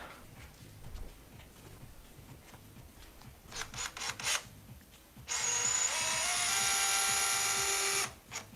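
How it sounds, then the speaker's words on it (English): A Makita rotary hammer driving screws, with short bursts of tool noise and then a sustained, loud whirring drive lasting about three seconds before cutting off. "if you have a rotary hammer, you're able to drive in screws"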